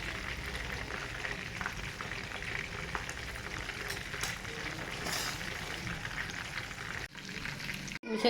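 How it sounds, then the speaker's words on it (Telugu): Chicken leg joints frying in a pan over a medium flame, with a dense, continuous crackling sizzle and a few brief dips near the end, close up and with no one speaking. "చూసారు కదండి జాయింట్లు ఎలా ఫ్రై చేసుకున్నామో."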